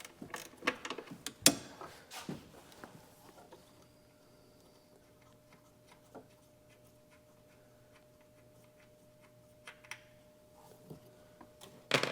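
Ratchet wrench taking 10mm nuts off the driver's side of a Jeep Grand Cherokee with a 3.6L Pentastar engine in a garage, a sharp clatter early on, then faint, steady clicking and ticking runs on with scattered knocks.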